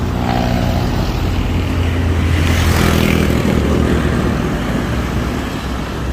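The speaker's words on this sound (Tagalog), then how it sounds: "May motor pataas." A motorcycle climbs uphill near Pandin Lake. Its engine drone swells and fades over a loud, steady rush of wind and road noise.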